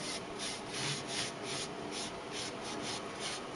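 Paint being rubbed on a mirror to make it look old, a soft, faint, steady scrubbing rasp repeating in even back-and-forth strokes, close and alone with no talk.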